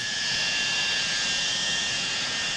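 An aircraft races down the runway at Wellesbourne airfield, a loud, steady broadband engine roar that holds for the whole stretch without letting up.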